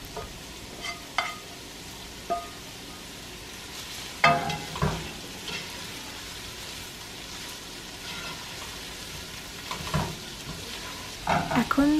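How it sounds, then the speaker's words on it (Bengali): Shrimp, broccoli and yellow capsicum stir-fried for shrimp fried rice, with a steady low sizzle under repeated scraping and clacking of a utensil against the pan, louder stirs near the middle and end. "তারপর আগেই ভেজে নেওয়া চিংড়িটা দিয়ে দেওয়া হচ্ছে।"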